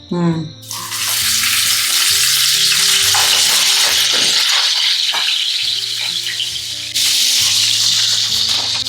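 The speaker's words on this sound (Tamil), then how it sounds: "இந்த எறாவை வறுத்து எடுக்க போகிறேன்" Prawns frying in hot sesame oil, a loud, steady close-up sizzle and crackle that swells right after the start and runs continuously to the end, with utensil scrapes and stirring clatter throughout.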